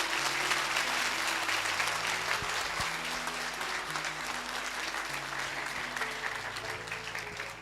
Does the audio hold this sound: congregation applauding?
yes